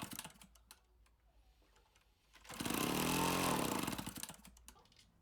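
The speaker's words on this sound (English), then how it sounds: "the motor was spun until it sputtered." A model airplane engine on a 1:4 scale balsa Citabria, choke closed, cranked over with light clicks until it briefly catches and sputters into a loud, close buzzing burst that rises and fades after about two seconds.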